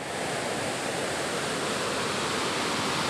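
A waterfall roars in a dense, unbroken broadband rush, loud and close throughout, with no voices over it.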